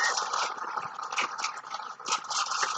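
Tap water running over a washed knife during hand dishwashing, a steady hissing stream broken by short splashy surges as the blade is rinsed, close and fairly loud.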